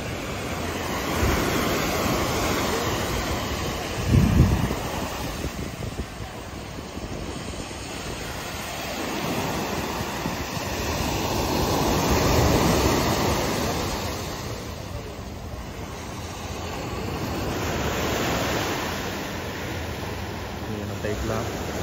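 Sea waves surge at high tide during heavy rain, a broad roaring wash that swells and recedes in long slow surges, with water reaching a wall and occasional voices and a brief thump nearby.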